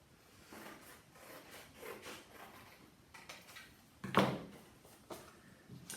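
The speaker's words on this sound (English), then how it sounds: "just fold it in half and then cut it down the middle" Scissors cut through a small piece of folded card in a few rough, rasping snips, close and fairly quiet, with one sharper crunch near the end.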